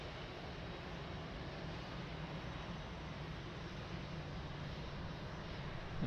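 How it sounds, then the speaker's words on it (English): An Azul airliner at Lisbon Airport readies to taxi, its engines giving a steady, unbroken broadband roar heard from a distance with no change in level. "Azul almost ready to taxi"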